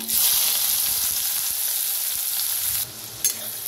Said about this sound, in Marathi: कांदा आता छान असा भाजून घेऊया।